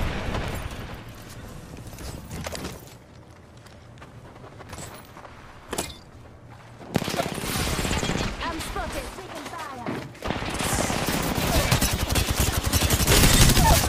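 Video-game gunfire in a competitive shooter comes in bursts: scattered single shots, then dense rapid automatic fusillades that grow louder and more continuous toward the end, with a brief talking voice mixed in.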